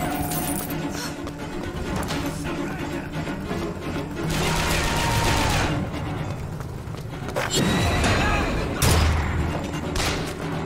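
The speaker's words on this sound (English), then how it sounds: "That's where the gunfire's coming from." Gunfire and explosive booms in the video game BioShock Infinite, with bursts of shots and heavy thuds rising and falling over a busy soundtrack and no clear talk.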